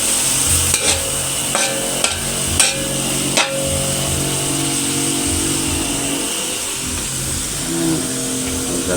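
Hotdogs frying in cooking oil in a pan for a home New Year meal: steady loud sizzling throughout, punctuated by several sharp clinks of a utensil against the pan in the first few seconds.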